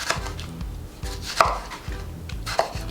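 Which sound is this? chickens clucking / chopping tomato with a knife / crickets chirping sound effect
chopping tomato with a knife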